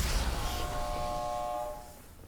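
A telephone rings in the video game Atomfall: a steady, buzzing electronic tone holds for about a second and then cuts off, heard alone over faint background noise with no talking.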